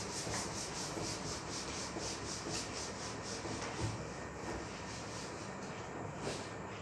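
Steady, rhythmic rubbing of an eraser or duster across a board to wipe away writing, a continuous close scratchy swishing with regular back-and-forth strokes and no talking.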